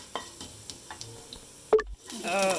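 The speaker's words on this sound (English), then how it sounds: "I've added half teaspoon of coriander seeds, 1 teaspoon jeera, and a little fennel seeds. So you need to saute them." Coriander seeds, cumin and fennel seeds sautéing in a pan for a samosa filling: quiet scattered taps and stirring with a faint sizzle, one sharper knock, then a louder stretch near the end.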